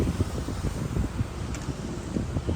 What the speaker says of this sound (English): High winds.